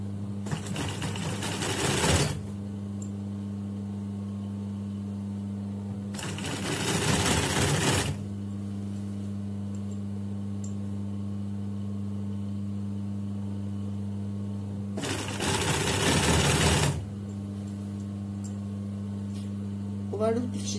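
A sewing machine stitches skirt fabric with an overlock seam in three separate bursts of rapid mechanical whirring, close and loud. Someone talks in the pauses between the bursts.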